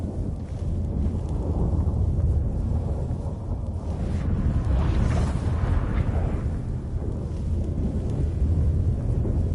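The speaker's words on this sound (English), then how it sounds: "That a storm?" A storm rumbles in The Witcher 3: Wild Hunt video game, a continuous low roar of thunder and wind that swells and recedes over several seconds.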